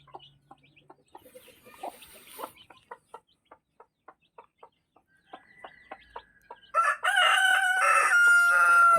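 Chickens cluck in a steady run of short, soft, evenly spaced calls around a native hen. A loud, close rooster crow then bursts in near the end.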